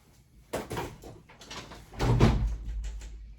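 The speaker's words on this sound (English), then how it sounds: "So let me close the door" A room door is pushed shut: a couple of soft handling thuds followed by a fuller, muffled close with a low knock, fairly quiet indoors with no talking.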